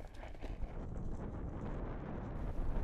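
Gusty wind buffets a microphone outdoors on an estuary fishing trip, a loud, rumbling low roar that surges and swells for a few seconds with no talking.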